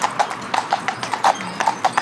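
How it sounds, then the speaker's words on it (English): Hooves of a pair of Friesian horses clip-clopping steadily on a hard road while driven in harness, loud and close, with faint rumble behind. "Look at this horse here, look, playing up because he's seen 2 soppy gates there."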